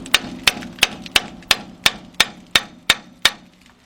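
A hammer strikes a pry bar to seat a front brake pad on a Ford truck, about ten sharp metallic taps in a steady rhythm, close and clear.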